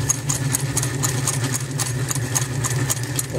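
An iron Singer 242 sewing machine runs on a worn, weakening motor, giving a steady mid-pitched motor hum with a rapid, regular ticking of the needle mechanism, close and continuous.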